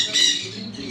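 Birds, apparently trapped in a cage at a resort, give a brief, loud, harsh squawk close by, with nothing else heard.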